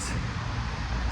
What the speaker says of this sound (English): Apologies for the traffic noises in the background.